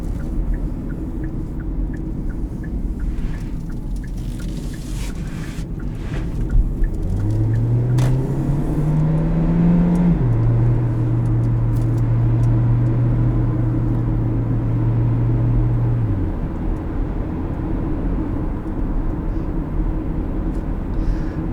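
A 2018 Hyundai Ioniq hybrid accelerates in sport mode, its engine note rising in a steady low drone over constant road rumble, then holding a level tone before easing off near the end.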